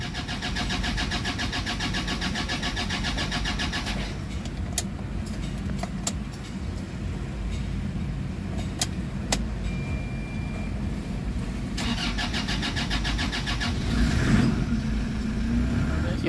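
A Toyota Fortuner with a no-crank starting fault runs steadily, close and loud, with a brief quieter stretch midway and a few sharp clicks, then the engine noise swells again; no voices.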